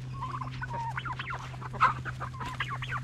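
Several chickens cluck and chatter close by over a steady low hum, with one sharper, louder squawk partway through.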